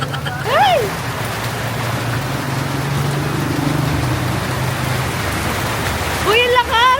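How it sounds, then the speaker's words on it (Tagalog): Steady rain pours down outdoors, a dense continuous hiss throughout, with excited voices shouting briefly at the start and again near the end. "Oh, umuulan na, umuulan na!"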